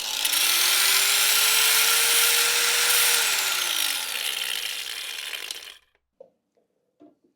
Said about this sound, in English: to remove the old chain, I'm going to use the grinder